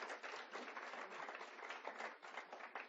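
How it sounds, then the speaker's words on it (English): An audience at a school district foundation breakfast applauds, a faint, distant, steady patter of many hands clapping for about three seconds with no voice over it. "how about a big round of applause for the LHS Group of 6 for their entertainment this morning."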